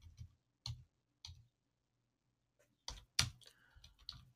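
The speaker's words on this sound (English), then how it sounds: "Let me make sure that I type this correctly." Several separate clicks and taps sound on a computer keyboard as a command is typed, first spaced apart and then a denser, louder cluster of keystrokes, faint and close in a quiet room.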